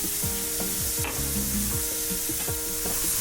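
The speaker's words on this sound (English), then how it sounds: "let this saute together until the onion is nice and translucent" Onion and vegetables with salt, pepper and fresh herbs sauté in a pan for herbed croissant stuffing, a steady loud sizzle broken by repeated scraping stirs and clinks of a utensil against the pan.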